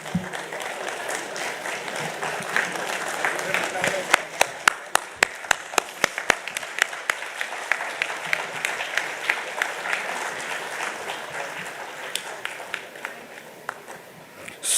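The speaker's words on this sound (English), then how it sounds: "I request all of you to give a standing ovation and great applause to all these greatest leader of our same profession" A large convention audience of cost and management accountants gives a standing ovation, sustained crowd clapping with distinct loud rhythmic claps standing out near the front, running for nearly fifteen seconds before tapering.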